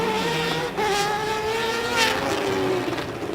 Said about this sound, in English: Look at the power of those Mitsubishi.